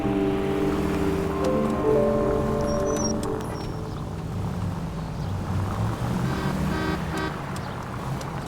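A car engine drones and revs in the video game L.A. Noire, loud at first and then easing into a steady rumble, with short tonal beeps and blips scattered over it.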